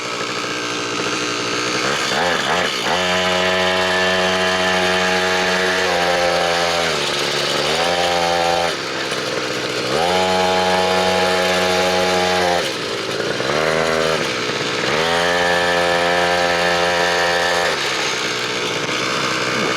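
A small three-wheeled minibike with a little single-cylinder engine putters and revs in a yard, its pitch rising and falling in repeated throttle swells, loud and close, with no talk over it.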